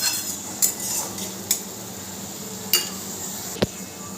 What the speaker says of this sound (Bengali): একটি ঢাকনা দিয়ে আমি ঢেকে দিলাম